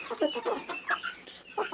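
Several chickens clucking in a backyard coop, including small chicks, with close, busy overlapping clucks and short calls in quick irregular bursts and no talk.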